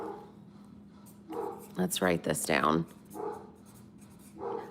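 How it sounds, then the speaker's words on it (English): A dog barks a few times in the background of a home beadwork session, sharp yips rising in the middle while someone speaks close by. "We've got barking dog."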